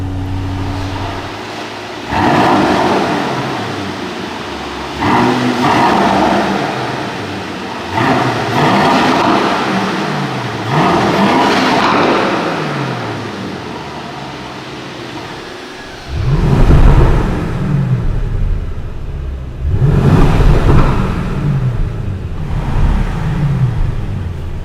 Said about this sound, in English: let's start the engine and we will listen to the sound